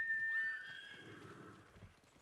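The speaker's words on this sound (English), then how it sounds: "call my horse up" A horse in the open-world game Ghost of Tsushima gives a short high whinny, followed by a few soft hoof clops as it trots in, brief and fairly quiet.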